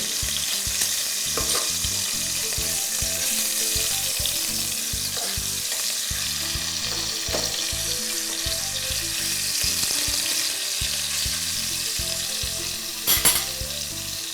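Food frying in a mixture of ghee and oil hisses and sizzles steadily, close and loud, while it is turned and stirred in the pan with a few scraping knocks and a brief clatter near the end.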